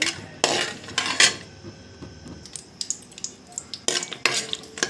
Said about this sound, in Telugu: ఇప్పుడు నెయ్యి బాగా వేడెక్కింది ఇందులో జీడిపప్పుల్ని బాగా ఎర్రగా వేయించాలి